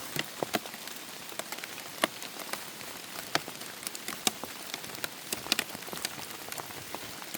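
Monsoon rain falls in a forest, a dense steady patter of drops on leaves and ground with frequent sharper individual splats, moderately loud and continuous throughout.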